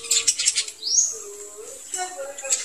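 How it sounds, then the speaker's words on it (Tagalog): Lovebirds chirping nearby in quick, high-pitched bursts, with a short rising call in the middle, faint and intermittent over a quiet background. "Ito yung tinatawag na lovebirds. Tunay na lovebirds."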